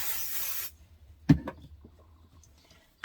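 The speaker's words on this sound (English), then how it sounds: "Where's my basting spray?" Basting spray from an aerosol can hisses onto fabric in one steady burst, close and fairly loud, then cuts off and gives way to a few soft rubbing and clicking handling sounds.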